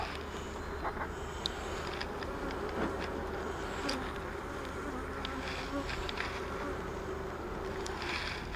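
Bees in an open hive during an inspection drone in a steady, close buzz, with a few sharper flyby whines and small knocks of handling over a continuous insect hum; no talking.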